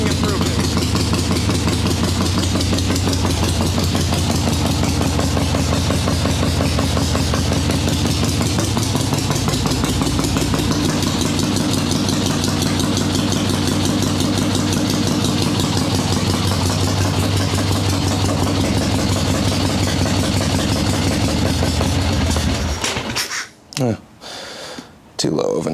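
A swap meet chopper motorcycle idles too low, a loud, loping, uneven rumble running steadily for a long stretch before stumbling and cutting out in a few sputters near the end, with breathing and voices mixed in.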